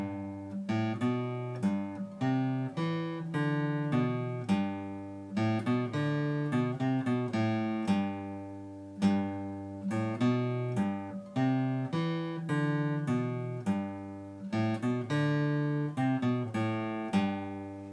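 A simplified beginner guitar intro to a song, picked as a steady run of single notes and bass notes in a relaxed rhythm, played alone and up close with no voices.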